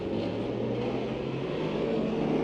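Pro stock race cars on a raceway accelerating together at the green flag of a heat race, a loud, sustained engine roar with a steady droning pitch and no voices.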